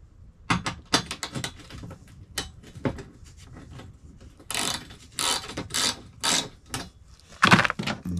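Bolts on a Gorilla Cart with 7 cu ft capacity are tightened with a 13mm wrench and a crescent wrench, giving close, quick bursts of metallic ratcheting clicks in uneven groups with short pauses between them, with no talking.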